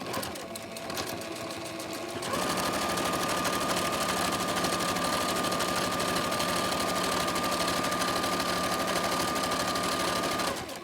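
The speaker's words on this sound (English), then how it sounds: "You want to make sure that you're going to sew very close to the edge here so that you're making sure that you catch those two pieces." A sewing machine stitches a cloth mask near the fabric edge, running in a steady, continuous whir for about nine seconds after brief stop-start handling noise, close and loud, with no voices.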